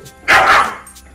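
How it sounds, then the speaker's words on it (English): A single loud dog bark bursts out close by, one sharp yelp-like bark lasting about half a second against a quiet indoor background. "Okay, dogs."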